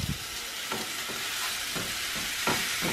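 Meat sizzles steadily in a pan with garlic and onion, a continuous bright frying hiss broken by regular scraping stirs, close and fairly loud with no talking.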